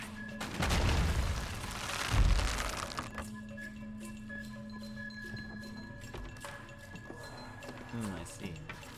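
An explosion in Tomb Raider erupts as a loud crack and boom with a rumbling tail, followed by a smaller second blast, then quieter debris clinks and a steady hum for the remaining seconds.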